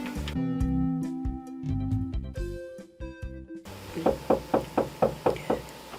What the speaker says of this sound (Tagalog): Sino kaya itong kumakatok?